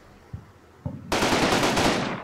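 A heavy machine gun fires in the Combat Mission wartime strategy game, a couple of single dull thuds followed by a loud, sustained rapid burst of gunfire up close.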